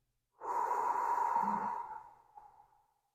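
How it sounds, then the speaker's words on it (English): A single long exhale through the mouth during Sheetali pranayama breathing. The soft, airy rush starts abruptly, holds steady, then trails off gently into silence, close and alone. "exhale out your mouth, relaxing the body"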